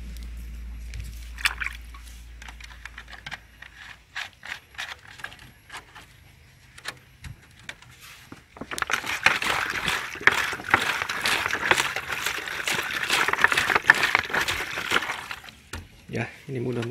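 A container of liquid nitrobacter culture is shaken, giving a burst of wet sloshing and splashing that lasts several seconds after quieter handling noises, with a voice speaking near the start.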